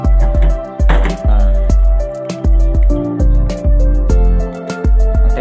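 Rice coffee with ginger being strained, liquid splashing and dripping in short repeated pours with sharp knocks of a utensil against a container, close and loud, no talk.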